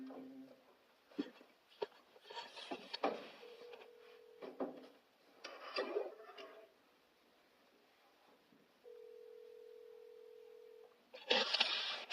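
Telephone being dialed, a few scattered keypad beeps and a long steady tone on the line amid handling clicks and rustles, with faint talk in the background.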